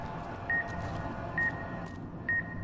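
Short electronic beeps in Fallout New Vegas sound three times at roughly even intervals, faint and thin over a low, steady background rumble.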